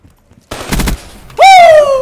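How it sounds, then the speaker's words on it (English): A hipfire gun burst in the Black Ops 3 multiplayer game, the magazine's last round: a loud rapid rattle of shots followed by a sharp ringing, whining tone, no talk. "Last round of the magazine with the hipfire one burst"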